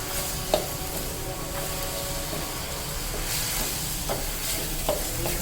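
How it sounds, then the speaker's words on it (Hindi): Beef keema with whole red chillies being stirred in a hot pan: constant sizzle with a few sharp spoon knocks against the metal, close up and free of speech. "चलिए आप इसको मिक्स कर लेते हैं"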